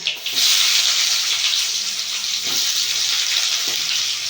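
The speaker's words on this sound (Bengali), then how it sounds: "তেলের মধ্যে দেবো পেঁয়াজ" Sliced onion dropped into hot mustard oil with black cumin and chopped garlic, a loud bright sizzle that starts abruptly and holds steadily, close up, with faint clinks beneath and no talking.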